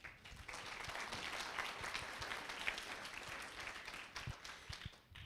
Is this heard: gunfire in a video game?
no